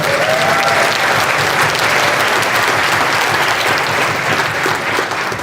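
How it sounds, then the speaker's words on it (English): Sustained, loud audience applause fills the hall at the TUC Young Workers Conference, a dense steady wash of clapping hands that holds evenly throughout without any talk. "Please give them an applause"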